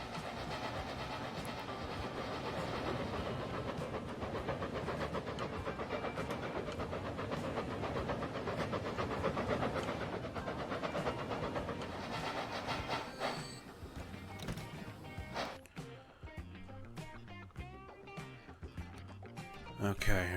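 A passenger train in the video game Transport Fever 2 rolls with a continuous dense rumble and clatter that holds steady, then thins out into a sparser, changing mix near the end.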